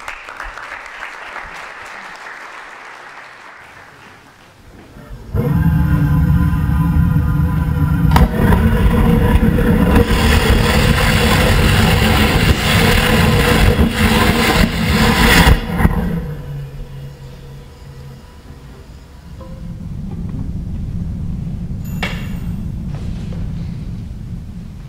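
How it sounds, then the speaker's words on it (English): bluShift Aerospace rocket engine test firing: a loud roaring burn of about ten seconds cuts in abruptly, then stops, followed by a lower rumbling tail and lingering noise. "you just saw a test of our rocket engine"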